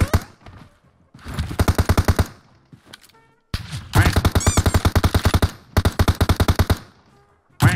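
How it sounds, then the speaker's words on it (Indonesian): Automatic gunfire in a PUBG Mobile match, fired from above: three long bursts of rapid, evenly spaced shots, each loud and close, with short gaps between. "Menembak beraninya dia menembak kita dari atas."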